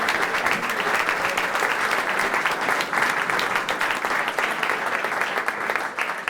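An audience applauds Jen and Tim after an onstage conversation: dense, loud, continuous clapping from a full crowd that holds steady throughout and eases slightly at the very end.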